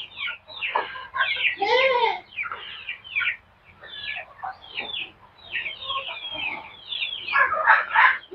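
Farm chickens cluck and squawk nearby in irregular bursts, with several birds calling over one another amid brief pauses.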